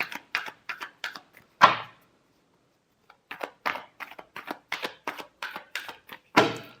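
Tarot cards being shuffled by hand, a series of quick crisp riffling bursts close up, pausing briefly midway before another run of rapid flicks and a final sharp riffle.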